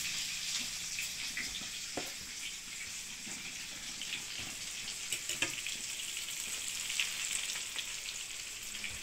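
Breaded parasol mushrooms soaked in milk fry in a pan, a continuous bright sizzle with occasional pops and crackles throughout and no speech.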